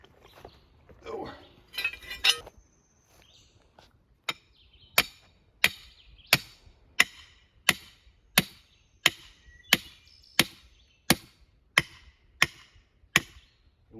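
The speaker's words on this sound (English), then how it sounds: "I got a 16-pound sled if you want it." A 16-pound sledgehammer drives a stake into the ground for a root cellar build, landing about fourteen sharp, evenly spaced blows after a brief rustle and some clinking, each strike loud and ringing.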